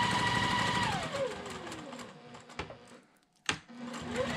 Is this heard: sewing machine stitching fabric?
yes